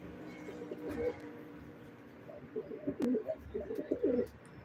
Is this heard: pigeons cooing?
yes